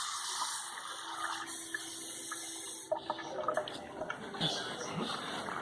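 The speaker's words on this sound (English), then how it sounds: "I'll add a little bit more water to it." Water pours and splashes from a kitchen sink tap into a pan of simmering fish with ketchup, a steady close rushing stream that turns choppier with clinks partway through.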